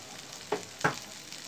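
Sliced okra fries in a pan with turmeric, a faint low sizzle under two quick spoon scrapes in close succession.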